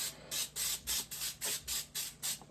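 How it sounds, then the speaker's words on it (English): Pam cooking spray is sprayed onto a baking pan in about eight short, evenly spaced hissing bursts. They are close and moderately quiet, with no talking. "I'm just going to take this Pam spray just in case,"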